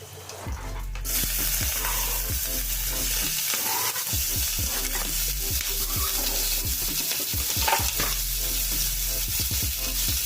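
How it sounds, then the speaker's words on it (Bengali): Chopped onion and whole cumin seeds sizzle and fry in a pan over a low flame, a constant crackle broken by repeated scraping stirs of a utensil against the pan. "ফ্লেমটা লো করে দিয়েছি এখন আমি পেঁয়াজটা ভেজে নেব"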